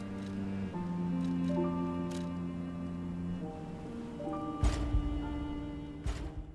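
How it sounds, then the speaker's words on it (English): Ocean waves wash softly beneath a sustained, layered musical drone on the main menu of the video game Lies of P, with a brief swell of surf near the end; no one speaks. "Now we even get the sound of ocean waves on the main menu."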